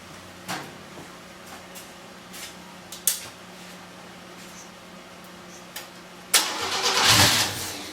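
A budget turbo car is cranked on the starter, giving faint clicks and a low whir that ends in a louder surge of engine cranking in the last couple of seconds.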